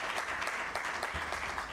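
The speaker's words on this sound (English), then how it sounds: "Shall we do a big round of applause for him?" Brief burst of audience applause at a press conference, an even, moderately distant patter of many hands clapping together.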